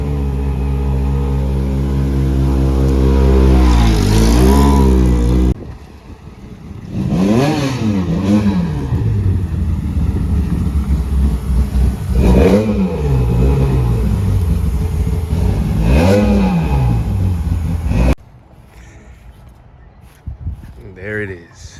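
A Lancia 037 Stradale Group B car's engine revs hard and close, climbing and falling in several loud, throaty sweeps before cutting to a quieter idle near the end.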